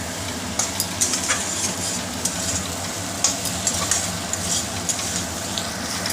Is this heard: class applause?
no